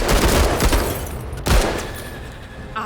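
Squad weapons firing in a video game, with a heavy gunshot burst and volley at the start, a second loud shot about halfway through, and steady battle noise between them.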